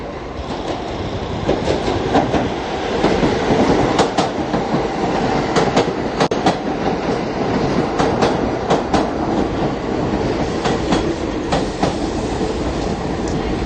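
A New York subway train on the B line rumbles steadily along the tracks, wheels clacking in a busy rhythm with occasional sharp metallic clicks, loud and close, with no talk.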